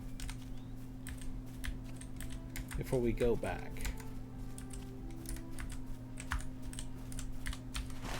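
Computer keyboard typing during a Lord of the Rings Online play session, heard as scattered quick clicks and taps across the whole stretch, under a steady hum, with a brief spoken phrase in the middle.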